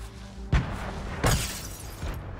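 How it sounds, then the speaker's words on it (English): Grenade blasts in Fortnite: two dull booming thumps about a second apart, then a softer third, each with a short crackling tail over a low game-ambience background. "I'm about to grenade them"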